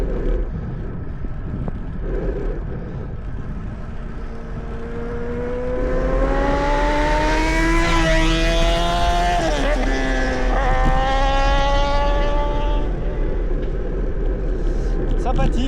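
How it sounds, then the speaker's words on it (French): A motorcycle on a wooded mountain climb approaches and roars past up close, its engine note rising and sweeping downward in pitch as it goes by, loud over steady wind rumble. "il y a une moto qui arrive comme un enflure"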